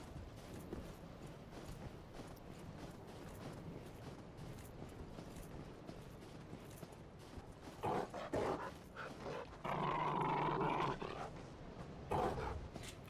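A dog barks in the action game Dark Souls 3, loud bursts arriving late after a long stretch of steady, noisy in-game ambience, with the last bark cut short.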